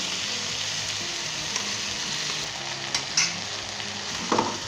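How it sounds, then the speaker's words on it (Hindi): Potatoes and okra stir-fry in a pan for a Punjabi aloo bhindi dish, giving a steady close sizzle with a few scraping stirs near the end and no talking. "2 से 3 मिनट के लिए हम इसे दोबारा भूनेंगे।"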